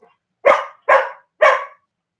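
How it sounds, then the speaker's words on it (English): Three evenly spaced, loud, close barks ring out one after another, with silence between each. "Why are you guys barking at me?"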